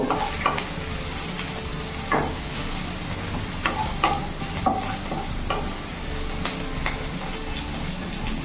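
Garlic cloves and whole green chilies fry in hot oil in a pan for a home-style dalma, giving a steady close sizzle punctuated by scattered scraping stirs of a spoon against the pan.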